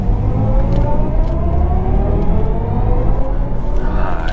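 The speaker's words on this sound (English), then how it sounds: "There's your electric sound and BMW." A 2023 BMW i4 eDrive35 electric car accelerating onto a highway, its synthetic drive sound rising in smooth, gliding tones over a loud, steady road rumble inside the cabin.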